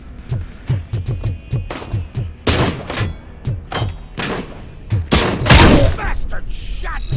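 A rapid series of sharp, punchy gunshots in RoboCop: Rogue City, fairly loud and close, starting as a rhythmic string of single shots and then thickening into dense, overlapping bursts of fire near the end.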